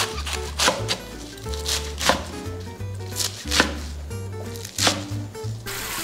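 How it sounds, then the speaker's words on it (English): A knife chopping napa cabbage into 2 to 3 inch pieces on a cutting board, a steady series of crisp thuds, close by, with background music underneath. "Cut the cabbage into 2 to 3 inch pieces."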